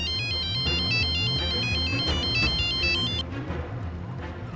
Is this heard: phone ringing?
yes